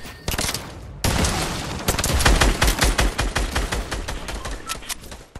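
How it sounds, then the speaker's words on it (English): Rapid bursts of gunfire fill a Fortnite squads match, close and loud, with sustained automatic fire rattling in quick succession after an opening shot or two. "How am I getting shot?"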